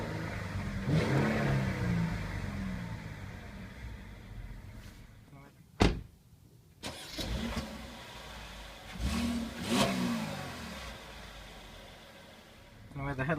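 A 2013 Mercedes ML350 4MATIC engine starting and revving, with a quick sharp start, a few rising revs and engine hum under occasional talk, plus a door-like clunk midway.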